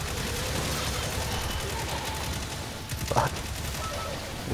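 Gunfire in Destiny 2 crackles as a steady, dense stream of rapid shots throughout, with one louder burst near the end; no voices are heard over the shooting.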